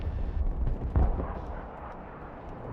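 A close air support strike in the game Broken Arrow lands as a deep, rumbling explosion with a couple of heavy thumps, the blast decaying into a low roar.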